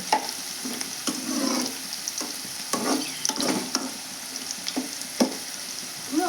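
Bitter gourd curry fries in a pan with a steady sizzle while a spatula stirs it again and again, each scrape a short rustle over the hiss. No one speaks.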